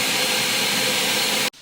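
A blender purees fried ingredients with a little water, a loud, steady whirring roar held close for over a second before cutting off abruptly into quiet.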